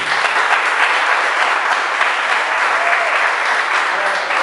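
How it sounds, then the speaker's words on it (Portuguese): A church congregation bursts into loud, sustained applause, dense clapping from many hands filling the room evenly from start to finish. "dê uma salva de palmas para Jesus"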